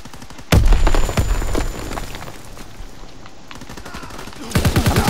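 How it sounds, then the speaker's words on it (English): Grenade blasts and heavy gunfire in a Call of Duty WWII multiplayer hardpoint match, loud broadband bursts at the start and again near the end with rattling shots between them. "getting grenades thrown at me constantly right now"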